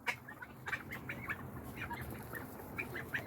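Pet chickens clucking softly at bedtime near a greenhouse, a string of quiet, close clucks and murmurs scattered over a low background, with no talking.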